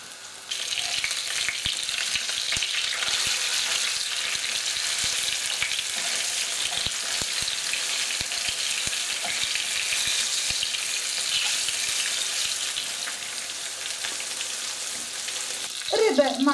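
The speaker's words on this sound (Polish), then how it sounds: "Będę smażyła po kilka minut z każdej strony, jak ryba zyska takiego złotowo-brązowego koloru." Pieces of bream fish fry in a pan with a steady, close, broadband sizzle that holds evenly throughout, with a few faint clicks and a brief clatter near the end; no one speaks.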